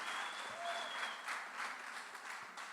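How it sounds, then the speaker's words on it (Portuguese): Church congregation applauding for mothers at a Mother's Day family service, a steady crowd of clapping hands heard at a distance, faint but continuous throughout. "Vamos dar uma salva de palmas por todas essas mães."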